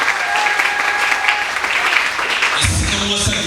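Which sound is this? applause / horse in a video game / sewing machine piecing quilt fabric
applause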